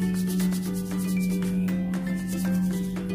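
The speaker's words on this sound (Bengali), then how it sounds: "এরপরে দেব কসুরি মেথি। হাতে একটু এটাকে ব্লেন্ড করে নেব।" Dried fenugreek leaves, kasuri methi, are crushed between the palms over a bowl of pakora batter ingredients, giving a close, dry, papery rustling and rubbing in short repeated strokes.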